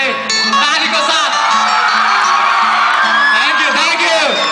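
Audience at a live concert whooping, yelling and cheering in a dense, loud roar of many voices that carries on throughout.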